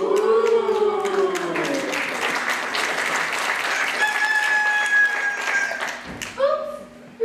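A rooster crow plays as a stage sound effect in a community theater play, long and wavering at the start, with applause, tapping and voices around it and a brief second crow near the end.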